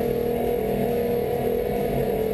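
Twin Mercury Verado 350 outboard boat engines running at about 5,000 rpm, a steady, loud, continuous whirring drone with a sustained tonal hum and no speech over it.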